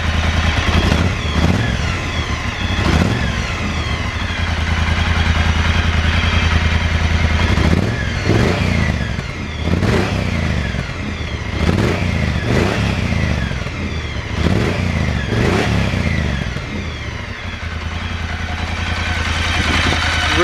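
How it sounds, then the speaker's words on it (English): A vehicle with a standard motor and stock exhaust idles with a steady low grumble, broken by a series of quick throttle blips that flare loud and fall back, heard up close. "give the throttle a quick couple of blips just so you can hear what the exhaust sounds like"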